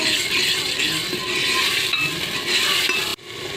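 Spices frying in oil for a garlic curry, a continuous close sizzle with stirring scrapes, fairly loud and steady before a sudden drop near the end.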